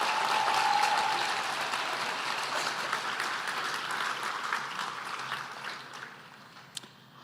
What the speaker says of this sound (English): Please give ourselves and each other a big round of applause.